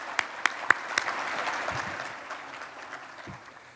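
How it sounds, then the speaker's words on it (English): Audience applause at a city event luncheon, opening with a few sharp nearby claps and then settling into a soft, even wash of clapping from the room that slowly fades. "Let's give him another round of applause."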